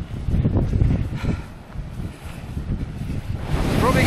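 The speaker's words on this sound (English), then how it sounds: "it's incredibly windy" Strong wind blows across coastal marshland near Wainfleet on the Lincolnshire coast, making a loud, continuous low rumble and buffeting against the microphone that swells and eases in gusts.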